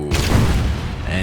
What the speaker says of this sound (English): infantry got annihilated by a mini nuke